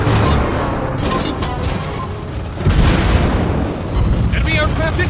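Ship explosions in the World of Warships mobile naval game, heavy booming blasts rolling through a dense, loud battle mix, with a fresh surge near the middle and another toward the end.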